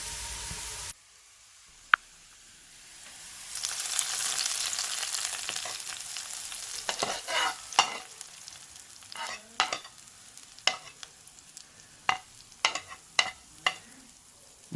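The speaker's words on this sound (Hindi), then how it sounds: "तो अब हम तड़के को कढ़ी के अंदर शामिल करेंगे।" A green chili and onion tadka pours into kadhi for kadhi pakora, a click and then a rising hiss of sizzling, followed by scattered scrapes and clinks of stirring against the pot, close with no voices.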